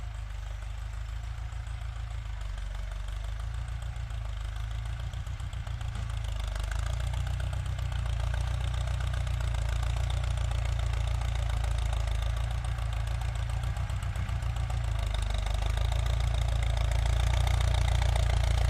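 Ford 6640 tractor diesel engine idling at low revs, a loud, steady low rumble with a rhythmic knocking throb that holds close and continuous throughout, with no talk.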